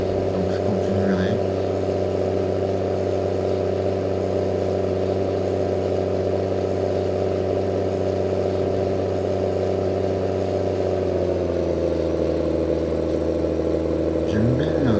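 A farm tractor engine in Belgium drones loud and close with a steady low harmonic hum, its pitch shifting slightly as the throttle changes toward the end.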